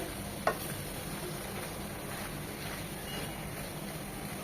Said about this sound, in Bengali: এটা একদম ভাজা ভাজা হবে আর একটু পরপরই নেড়ে দিতে হবে যেন নিচে লেগে না যায়